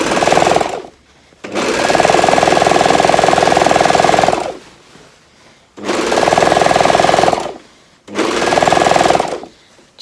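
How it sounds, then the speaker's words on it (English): An overlocker serges a fabric edge for an everyday bag in three loud bursts of rapid, steady machine whirring, each stopping briefly before starting again, close up with no voices. "I think I'll just wing it on the overlocker. So that's one side serged."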